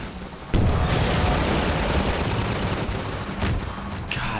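Heavy gunfire in a Half-Life 2 battle erupts suddenly after a quieter moment, then rattles on as a dense, loud barrage with booming impacts and a sharp extra blast near the end.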